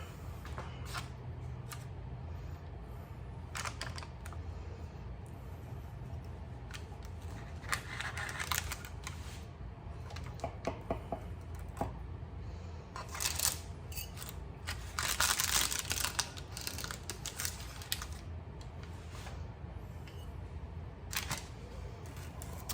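Knife cutting into a pan of warm, rich chocolate Greek yogurt brownies: faint, scattered scraping, crunching and tapping sounds close by, against a quiet kitchen background.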